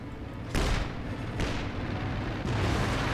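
Gunfire and heavy weapon blasts in the World War II strategy game Company of Heroes 2, with a tank battle against a Panther: three loud booming shots at a steady pace over a constant roar of battle.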